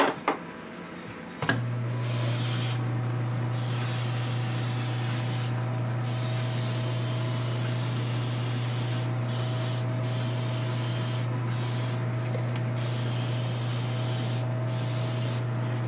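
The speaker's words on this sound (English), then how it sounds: "we also spray these pieces down" A steady hiss of spray paint coats costume outfit pieces for a Black Lantern Wonder Woman build, running continuously at close range with brief pauses between bursts.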